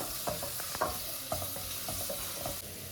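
Onions browning in a pan for plain hotel-style salna, a soft steady sizzle punctuated by irregular clicks and scrapes of a spatula stirring, close and fairly quiet with no voices.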